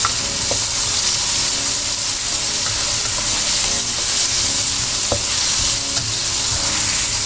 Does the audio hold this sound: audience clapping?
no